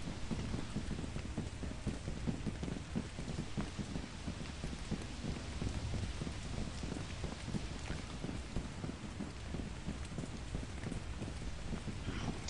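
Rain falls in a video game as a steady, even hiss with a constant patter of small drops, unbroken for the whole stretch and with no voices.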